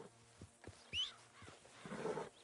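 A horse in Red Dead Redemption 2 gives a short, faint whinny and snorts amid soft clip-clop hoof thuds, with a breathy rumble near the end, all quiet and close in a calm outdoor setting.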